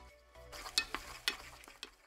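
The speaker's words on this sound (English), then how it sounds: "You want to toast up your tomato paste." Tomato paste toasting in a pan as a base for Amatriciana, a soft sizzle broken by a few sharp scrapes and stirs, close and with no talking.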